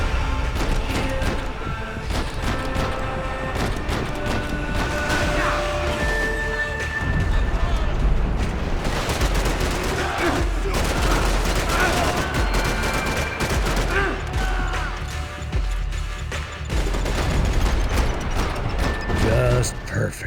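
Sustained gunfire and grenade blasts in an airport departure lounge firefight in Max Payne 3, dense rattling shots and mechanical clatter throughout, loud and close, with voices over it.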